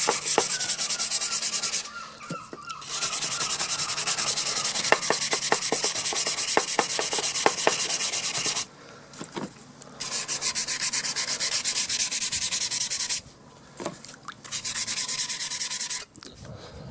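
400-grit sandpaper rubs steadily against the dash light of a Suzuki Bandit motorcycle, a close, continuous scratchy hiss. It runs in long strokes broken by a few brief pauses.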